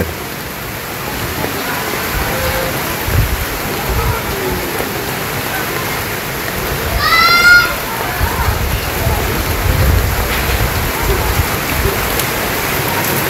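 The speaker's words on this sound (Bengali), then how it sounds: "ভালোই ছিটা ওটা বৃষ্টি নেমে গেল।" Rain falling in a Bangladeshi village, a steady, close hiss of drops on surfaces throughout, with a brief bird call partway through.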